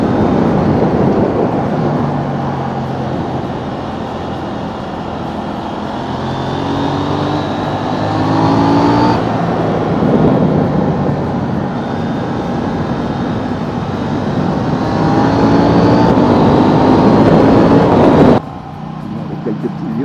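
A KTM 790 motorcycle with an Akrapovic exhaust and Pirelli Diablo Rosso III tyres rides on a twisty road, its engine droning loud and close with rising and falling pitch under heavy wind rush, then easing off at the end.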